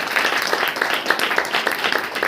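A church congregation claps together in a dense, fast rhythm, with loud, close hand claps blending into steady applause and a voice faintly underneath.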